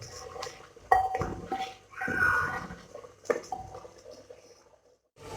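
A metal spoon clinks and scrapes in a pot of mutton frying with yogurt, with a few sharp clanks and a soft wet bubbling between them, close and fairly quiet.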